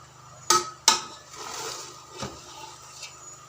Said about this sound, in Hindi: अब हम इन्हें मिक्स करेंगे।